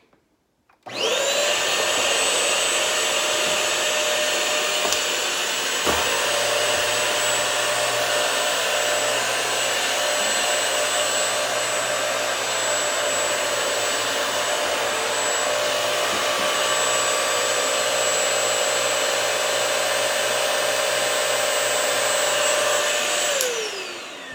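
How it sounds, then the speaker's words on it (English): A Bissell Crosswave multi-surface cleaner switches on and runs with a loud, steady motor whine and roller spin, holding constant for over twenty seconds before cutting off at the end. "I'm going to turn it on and you'll see that the roller won't spin until I tilt the machine back."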